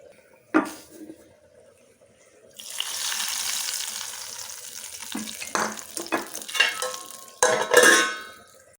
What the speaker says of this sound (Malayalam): ഇതിലേക്ക് നമുക്ക് കടുക് വറുക്കണം